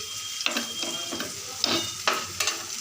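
Spice paste of chilli powder and water fries in a pan, a steady close sizzle broken by several louder scraping stirs, with no voices.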